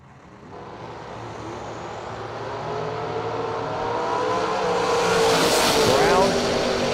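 A 1967 Camaro drag racing builds from a distant engine drone into a swelling roar as it launches, growing steadily louder and closer across the run.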